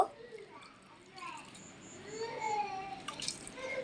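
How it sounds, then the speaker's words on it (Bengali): Water is poured into a bowl of flour for a dough, giving a soft, faint trickle and splash that grows louder toward the end, with people talking over it. "এখানে পরিমাণ মতো পানি দিব"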